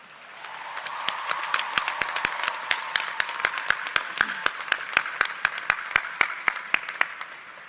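Commencement audience applause at a college graduation, with sharp, distinct claps close by over a broader crowd clapping that swells and carries on steadily.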